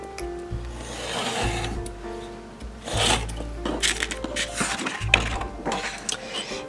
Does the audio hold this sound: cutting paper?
yes